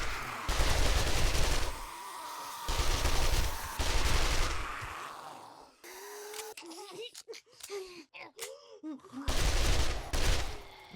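Gunfire from a weapon in the survival video game 7 Days To Die, loud broadband bursts in a few rapid volleys, separated by a stretch of quieter game sounds and brief speech.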